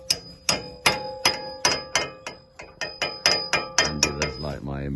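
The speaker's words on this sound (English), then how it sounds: "Doesn't look like a hammer, but it's the sort of old-fashioned hammer." An old-fashioned hammer striking metal, likely a bolt on a wharf, in a steady series of about a dozen ringing clangs roughly half a second apart, the final blows quicker and with a lingering metallic ring.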